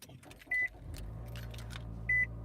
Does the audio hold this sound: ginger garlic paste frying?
no